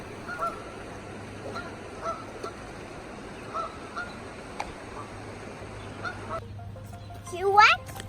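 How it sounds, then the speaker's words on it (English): Geese honking outdoors among rocks and tree stumps: a few faint, scattered calls over a steady ambient hum, then a louder, closer burst of rising honks near the end. "there's geese around"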